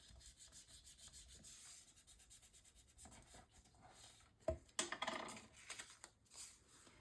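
A paper band on a mini album page is burnished down by hand, giving soft, close rubbing strokes that brighten into a few sharper scrapes near the end.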